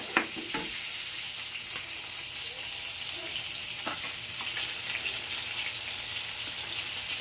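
Chili garlic oil sizzles in a pan with a constant bright fizz, a few sharper pops and spatters scattered through; close and steady, with no talking.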